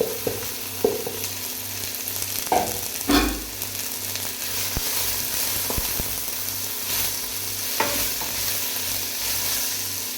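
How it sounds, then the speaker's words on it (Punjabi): Chopped onions frying in mustard oil in a pan for a paneer curry, giving a steady sizzle with a few scrapes and stirring knocks, close and fairly loud, with no talking. "ਥੋੜਾ ਜਿਹਾ ਲਵਾਂਗੇ ਸਰੋਂ ਦਾ ਤੇਲ ਇਹਦੇ ਵਿੱਚ ਆਪਾਂ ਜਿਹੜੇ ਪਿਆਜ਼ ਉਹ ਪਾ ਦਾਂਗੇ"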